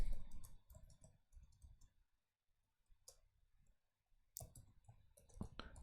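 Bursts of rapid keystrokes on a computer keyboard, with quick close clicks in short runs, a pause near the middle and a final run of typing.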